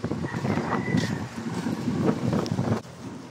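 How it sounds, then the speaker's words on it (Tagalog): Strong wind buffets the microphone with a low, continuous rumbling roar, gusting unevenly and dropping off near the end. "ang lakas ng hangin"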